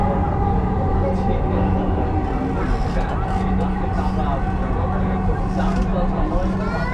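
Steady rumbling hum inside a moving elevated metro train in Bangladesh, continuous mechanical drone with faint rattles throughout.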